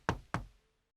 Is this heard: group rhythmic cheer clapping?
no